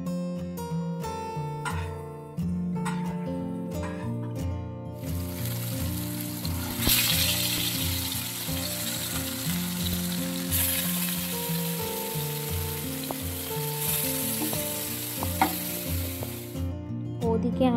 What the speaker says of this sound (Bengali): আজকে তাই অল্প করে একটু ওরই জন্য শুধু ওই ফুলকপি ভাজা চলছে।